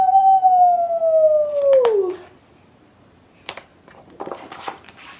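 A single long, falling howl sung by a voice imitating a werewolf howling at the moon, loud and close, followed by a few faint clicks and rustles.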